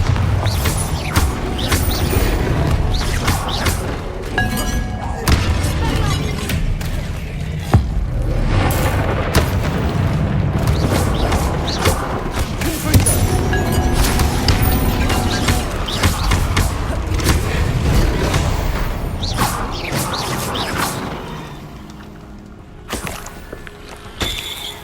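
Bombarda, an explosive spell cast in the Hogwarts Legacy video game, booms amid a dense, loud, continuous mix of battle effects and music, fading near the end.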